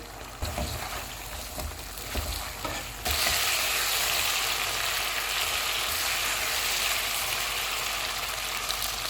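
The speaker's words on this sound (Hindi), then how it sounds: "अब हम चूल्हे को फुल कर देते हैं और इसको भून लेते हैं।" Chicken frying in a pan over full flame with lemon pepper seasoning, a few spoon clanks at first, then a loud, steady hiss of sizzling that stays constant throughout.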